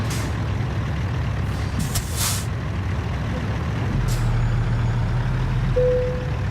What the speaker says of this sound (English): Let me try try to straighten this truck out a little bit more.